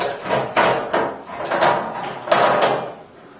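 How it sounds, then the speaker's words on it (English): Metal top cover of a TLS tape library being set back in place, a series of close scraping slides and hollow clunks in several bursts, fairly loud, with no talk. "you want to go ahead and put your top cover back onto the library."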